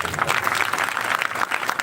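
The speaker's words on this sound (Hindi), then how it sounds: "ये भाचा बड़ जोरदार ताली बजा।" Loud applause from a village audience at a Ramayana recitation gathering, a brief dense burst of clapping filling the whole moment.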